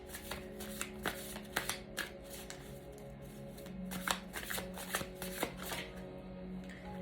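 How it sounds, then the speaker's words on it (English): Tarot cards being shuffled by hand in a close, quiet room, with soft repeated riffling bursts and light slaps as cards fall out of the deck. "Cards just keep on falling."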